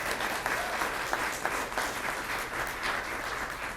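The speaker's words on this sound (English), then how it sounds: "let's give another round of applause to Jay Inslee" Applause from an audience at a Climate Week NYC event on decarbonizing buildings, a dense steady clapping that holds for the whole stretch.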